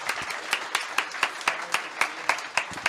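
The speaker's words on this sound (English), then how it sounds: "Can we get a big round of applause for Susie?" A small audience claps through a talk show recording, a thin, loose round of applause with distinct individual claps landing in an uneven rhythm, fairly close and moderately loud.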